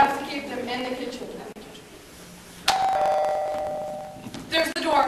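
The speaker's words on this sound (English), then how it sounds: "That was the doorbell." A doorbell chime rings out at a stage play, a clear sustained ding tone that sounds once and then again as it fades, amid murmuring voices and stage noise.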